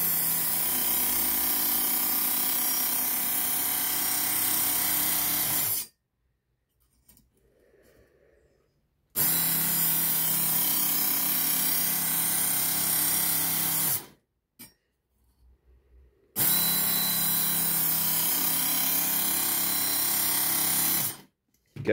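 Three loud, close passes of a Work Sharp Mk.2 powered knife and tool sharpener grinding a knife blade, each a steady abrasive whir of several seconds, separated by brief quiet gaps.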